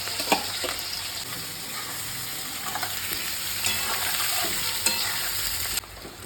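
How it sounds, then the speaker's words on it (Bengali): Cauliflower frying in oil in a pan for a paneer curry, a steady close sizzle with intermittent stirring and scraping knocks, no voices. "এরপর আমি ফুলকপিটা ভেজে নেব"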